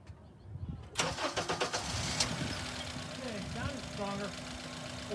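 A car engine cranks on its starter motor, a rapid rhythmic churning that rises in loudness after a quiet start, then settles into a steady running drone.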